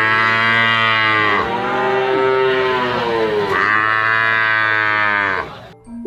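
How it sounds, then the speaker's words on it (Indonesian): A water buffalo lowing in long, loud, drawn-out moos, two sustained calls that sweep down in pitch and rise again, close and alone without talk. "Ternyata ini hewan kerbau."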